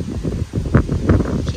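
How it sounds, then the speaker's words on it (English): Steady gusting wind buffeting close to the microphone in a garden, a low rumbling roar with brief flutters and rustles. "It's very windy here today."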